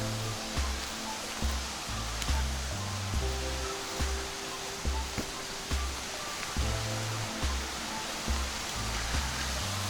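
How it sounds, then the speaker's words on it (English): Small waterfall along the Loyalsock Link Loop Trail, heard as steady broadband rushing water under a recurring low thumping from walking or wind on the mic. "nice little waterfall over there"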